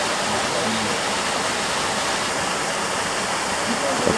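A waterfall at a small desert oasis in Israel rushes in a steady, loud, broadband roar that stays constant throughout.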